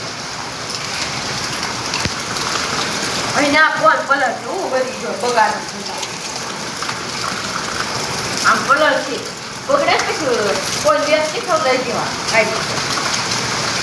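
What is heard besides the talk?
heavy rain with thunder and lightning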